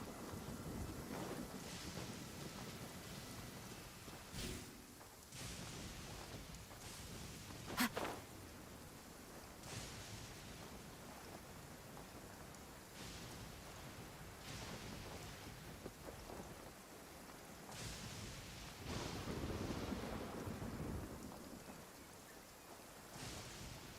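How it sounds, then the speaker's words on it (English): A thunderstorm in the game Genshin Impact: steady heavy rain and gusting wind with rolling thunder swelling several times and one sharp crack early on, continuous and fairly loud, no voices. "Compared to the storms I've encountered out at sea, this is really quite tame."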